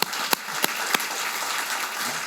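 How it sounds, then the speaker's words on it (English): An audience claps at a talk with Kareem Abdul-Jabbar, a few sharp separate claps at first, then a steady wash of applause from across the room, with no voices. "Well, that deserves a clap."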